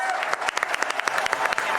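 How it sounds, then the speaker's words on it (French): Studio audience applause for a guest on a quiz show set, quick dense clapping with sharp individual claps standing out, close and fairly loud, briefly overlapped by a voice. "Un tonnerre d'applaudissements pour Mr. Fox"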